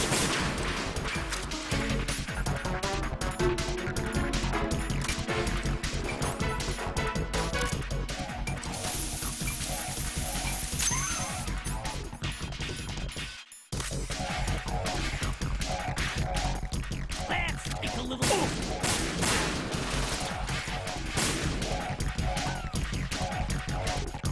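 Metal Gear Solid 2 gameplay fills the scene with dense, loud gunfire and crashing impacts. A brief dropout comes near the middle, then the barrage resumes and continues to the end.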